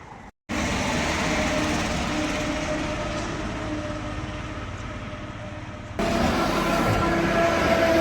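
A steady, loud rumble of a train rolling past overhead, continuous throughout with a rising surge near the end; no talking.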